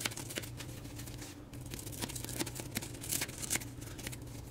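Half-cut craft foam is pinched off and torn apart, giving faint, close crinkly tearing and crackling with a few small sharp snaps and no talk.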